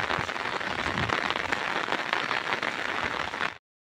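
Heavy rain pours down in a steady, dense hiss for about three and a half seconds, loud and close, then cuts off abruptly.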